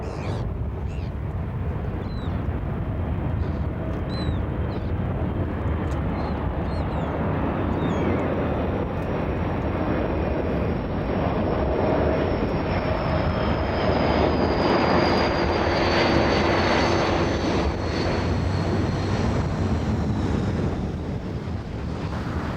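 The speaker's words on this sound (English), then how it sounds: "now all we can see is one aeroplane" A single aeroplane flies over a former busy seaport by the water, a loud continuous engine roar with wind buffeting the microphone, swelling gradually as it passes and holding strong for over twenty seconds.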